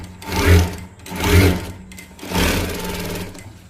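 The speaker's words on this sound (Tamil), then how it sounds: "இப்போ வந்து நான் ஸ்டிச் பண்ணிட்டேன்" Sewing machine stitching fabric in three quick, loud runs, each a rapid mechanical chatter separated by brief pauses, heard up close.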